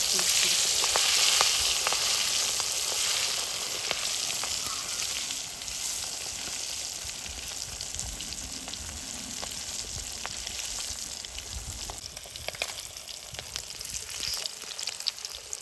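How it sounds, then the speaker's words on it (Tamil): Quail frying in a pan of hot oil for village-style cooking: a dense, steady crackle and sizzle that runs unbroken throughout, with scattered sharp pops, fairly close and loud. "ஃப்ரை ஆயிடுச்சு, எடுத்துடலாம்."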